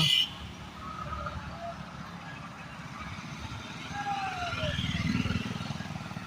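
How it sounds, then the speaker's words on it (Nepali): Motorcycles in a large political bike rally roll past on a road, a low, continuous engine rumble that swells toward the end, with people's voices mixed in. "निकै बाइक र्यालीमा निकै रहेछ बाइकहरू अझै आउँदैछ"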